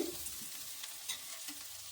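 Pieces of elephant foot yam fry in a pan with a soft, continuous sizzle, broken by faint stirring scrapes, quiet and alone without any talk.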